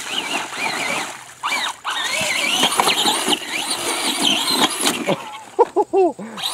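A Traxxas Bigfoot RC monster truck with a brushed motor driving through mud and rocks, a whiny electric motor surging and dropping in pitch with bursts of throttle and splashing, close by.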